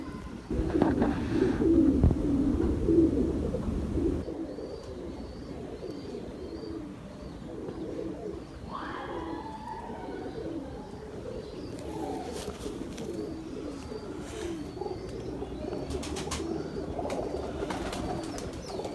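Pigeons coo in a loft, soft rolling throaty calls repeating close and at a distance over a steady murmur of background noise, with a louder burst of flapping or movement at the start.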